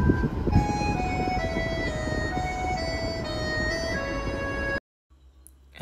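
Music plays through aftermarket door-mounted speakers in a car, a bright melodic song with steady beat and layered tones, loud and continuous for several seconds before cutting off abruptly into quiet cabin background.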